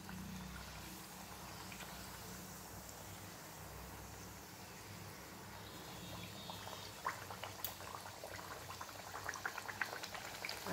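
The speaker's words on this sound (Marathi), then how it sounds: "आणि गुलाबी रंगावर या पुऱ्या तळून घ्यायच्या आहेत." Sweet puris frying in hot oil, a few at a time: a continuous bubbling hiss that grows livelier toward the end, with scattered crackling pops, close and steady, no voices.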